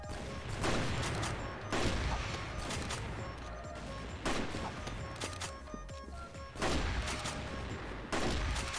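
Sharp single shots from an R93T2 sniper rifle in CrossFire, a handful of loud, spaced reports with the action cycling and faint game noise between them.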